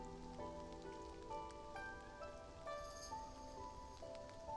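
Steady rain falls in a video game, a dense hiss of drops running throughout with soft sustained musical tones layered over it.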